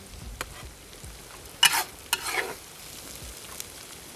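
Fried carrots and onions are stirred in a kazan, giving a soft, low sizzle with a few brief scraping sweeps of a spoon against the pot, close and quiet, with no voices.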